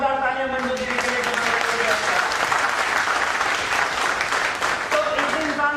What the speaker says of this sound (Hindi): एक बार जोरदार तालियां मंजू दीदी के लिए।